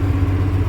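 A White 7300 combine engine running with a low, steady, even rumble, close and fairly loud, in a brief stretch with no talk.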